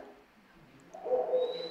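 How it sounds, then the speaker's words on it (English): Hermit thrush calling in an Arizona forest where Mexican spotted owls live: a sustained, clear tonal song swells up in the second half, moderately close and alone over quiet woodland ambience. "Yep, hermit thrush."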